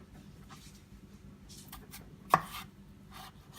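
A single crisp chop of a knife through a large carrot on a cutting board stands out against quiet background noise, with faint scraping before it.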